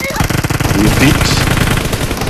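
Rapid automatic gunfire in a video game crackles in dense bursts under a voice that speaks over the shooting.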